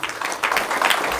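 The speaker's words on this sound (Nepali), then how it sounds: "हामी ताली बजाउनेछौँ।" An audience at a book launch ceremony claps together in steady, dense applause, close and loud, sustained through the whole moment with no talking over it.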